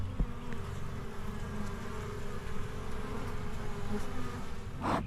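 Honey bees buzz around the hives in a backyard apiary during a mid-April inspection, a steady low drone of many insects close by, with a brief louder buzz near the end.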